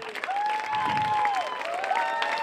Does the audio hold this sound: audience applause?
yes